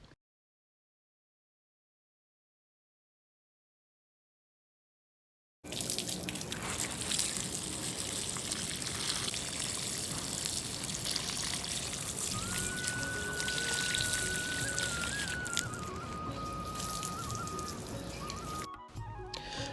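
After several seconds of silence, water pours steadily onto the soil of onion plants growing in garden beds, a continuous close splashing trickle with a faint tonal whine midway.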